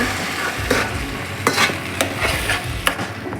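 Cooked chickpeas being stirred and fried in oil in a pan for Mangalorean kadle bajil, with close, sharp spoon scrapes every half second or so over a crackling sizzle.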